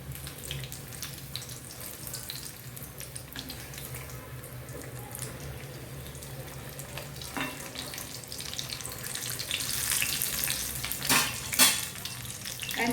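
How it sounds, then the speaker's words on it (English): Potato vadas for vada pav frying in hot oil, a steady loud sizzle and bubbling that swells near the end with a few sharper crackles and stirring clinks, no speech. "fry it until it is golden brown"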